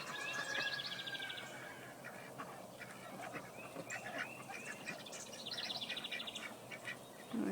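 Ducks quacking outdoors on grass, several nasal calls in short scattered runs over a quiet background hiss, moderately close with nobody speaking.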